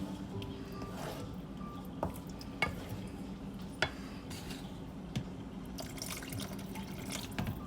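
Water pours into a pot of thick fish curry, followed by stirring with a few light clinks of a utensil against the pan.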